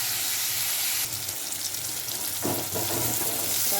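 A bitter gourd gravy bubbles and sizzles in a pan, a steady close simmering hiss with soft popping that runs throughout, getting slightly busier toward the end.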